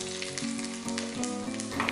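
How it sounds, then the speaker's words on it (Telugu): Garlic cloves and tempering seeds frying in hot ghee and oil for mint dal, a loud, steady close sizzle with faint stirring scrapes throughout. "లో ఫ్లేమ్లో 2 నిమిషాల పోపుని బాగా వేయించుకోవాలి"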